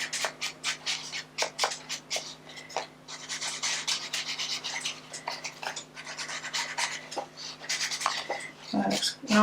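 Pink dauber sponge dabbing tea dye onto paper, a quick series of soft, close rubbing pats in an irregular rhythm that continues throughout.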